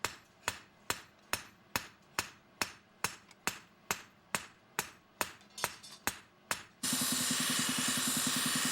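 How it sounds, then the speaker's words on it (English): A hammer pounds both sides of a forged Japanese kitchen knife, about fifteen sharp, evenly spaced metallic strikes close by, ending in a sudden burst of steady roaring hiss. "he pounds both sides of the knife to create the correct shape"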